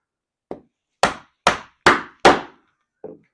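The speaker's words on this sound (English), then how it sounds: "I'm beating a snot out of a chisel with a mallet." Wooden mallet striking a chisel, six sharp percussive knocks alone: a light tap, four loud evenly spaced blows about half a second apart, then a softer final tap.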